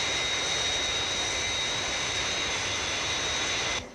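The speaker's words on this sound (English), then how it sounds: "The new Fireflash Mach 6 atomic airliner is in distress at London Airport." Steady roaring whine of jet engines on the Fireflash Mach 6 atomic airliner, a TV puppet-show sound effect, loud and continuous with a high hiss that stops abruptly at the end.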